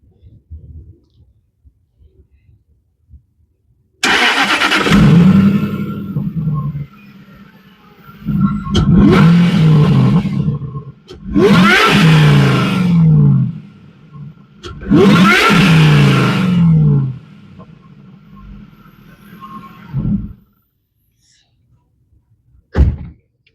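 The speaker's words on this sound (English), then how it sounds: "you could hear the supercharger whine, I'm sure" A Jaguar XJR's supercharged engine with a Caldoofy intake revs loudly in four long bursts, each rising and falling, with a whining supercharger tone over the roar and quiet pauses between.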